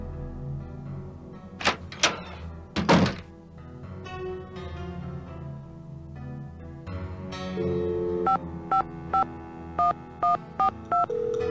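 A telephone in a ticket booth is dialed in a Nancy Drew mystery game, a few thumps and a sliding clatter first, then a rapid run of clear touch-tone beeps in quick succession, close and distinct with no talk.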